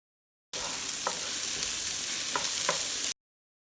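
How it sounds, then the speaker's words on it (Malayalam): Chicken with salt and coconut pieces sautéing in a pan gives a steady, close frying hiss with a few soft clicks of stirring. It starts abruptly and ends abruptly, with no voices. "ഇതിൻ്റെ കൂട്ടത്തിൽ തന്നെ ഞാൻ ശകലം ഉപ്പും കുറച്ച് തേങ്ങാക്കൊത്തും കൂടി ഇട്ട് കൊടുക്കുന്നുണ്ടേ. ഇനി ഇത് നമുക്ക് നന്നായിട്ട് വഴറ്റി കൊടുക്കണം."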